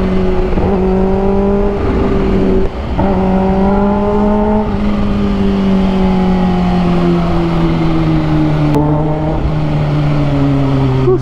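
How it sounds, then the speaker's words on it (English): A Kawasaki H2 supercharged motorcycle cruising in third gear, its engine droning loud and close with a strong whining tone that climbs and holds through repeated revs, with a brief dip between pulls and no talking. "Only because of the cool factor and the screaming supercharged sound"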